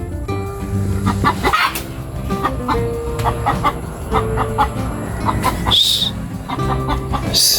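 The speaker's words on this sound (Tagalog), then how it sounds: "May naligaw na manok." A stray chicken wandering a lot clucks repeatedly up close, its sharp bursts spread through the stretch, with a brief higher call near the end.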